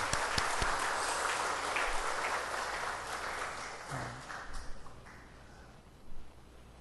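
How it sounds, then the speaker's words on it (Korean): A church congregation gives welcoming applause to returning visitors during a Sunday worship service, a fairly soft spread of clapping that fades gradually, with a few lighter scattered claps and small bumps of noise near the end. "환영의 박수 한번 해주시면 좋겠습니다"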